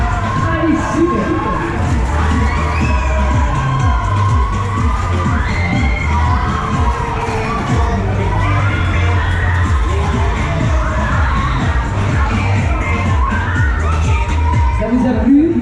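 Riders on the Rafale, an intense caterpillar ride at a fairground, scream and cheer continuously as a loud crowd, with the ride's low rumble running steadily underneath.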